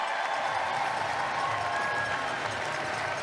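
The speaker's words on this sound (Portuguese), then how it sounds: "Saudado pelo público, recebendo um aplauso" A stadium crowd at a Pan American Games swimming medal ceremony applauds a 100m backstroke medalist, a steady, distant-sounding wash of clapping and crowd noise with no clear breaks.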